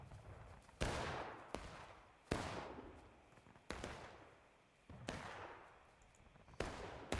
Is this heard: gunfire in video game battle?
yes